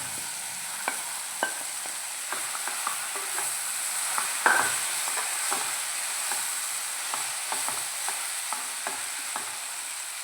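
Squid and masala give a soft continuous sizzling in a pan, dotted with scattered pops and crackles and an occasional utensil tap, no voices.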